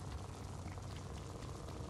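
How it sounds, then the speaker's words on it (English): A steady, faint burbling wash of running water inside Little Nightmares, a continuous low churning flow with no voices. "Water."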